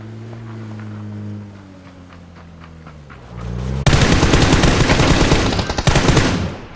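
Video game machine-gun fire during a duo match erupts after a vehicle engine drone, with dense rapid bursts of automatic gunfire, loud and close, rattling on for several seconds.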